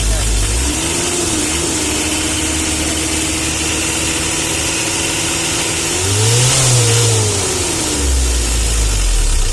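A diesel engine in a Mitsubishi L300 runs loud and close, idling with a steady rumble, then revs up briefly before settling; a voice speaks at the start.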